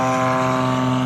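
A STOL airplane's propeller engine roars at full power during an aggressive takeoff roll at the Rocky Mountain STOL Competition, a loud, steady droning hum held for about a second.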